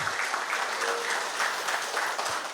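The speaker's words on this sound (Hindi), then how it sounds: "तो मैं चाहूँगा कि उनके सम्मान में एक बार जोरदार तालियां बजाई जाए।" Loud, sustained applause from a conference audience at a denim industry event, steady clapping filling the whole stretch with no voices over it.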